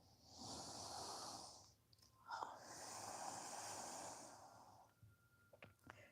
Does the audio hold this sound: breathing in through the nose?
yes